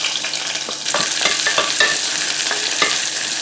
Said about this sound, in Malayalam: ചെറിയ ഉള്ളിയും കൂടി ബ്രൗൺ കളർ ആകുന്നത് വരെ നന്നായിട്ട് ഇതുപോലെ വഴറ്റി കൊടുക്കുക